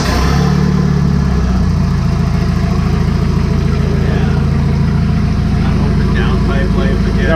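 A Volvo 740 engine fitted with a junkyard 15G turbo starts and settles into a loud, rough idle close by. A steady low rumble carries on for the rest of the clip, and a voice can be heard under it.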